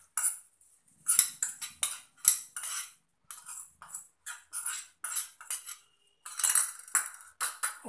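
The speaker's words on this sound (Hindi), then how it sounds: "अच्छी तरह से इसे मिक्स कर लेना है।" A spoon clinks and scrapes against a steel bowl while stirring tempering into rested rava (semolina) idli batter, repeated irregular metallic strokes at close range with brief pauses, no talking.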